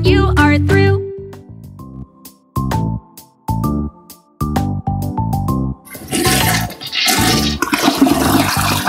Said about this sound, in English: Flush the potty when you are through.